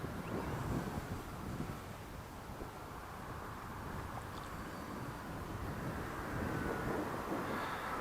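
Wind rushes steadily outdoors at an RC warmliner glider flying field, a constant low, muffled roar buffeting the microphone at moderate level for the whole stretch, with no talk.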